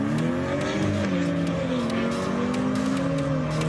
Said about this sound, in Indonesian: Inilah video viral aksi balap liar yang dilakukan dua mobil mewah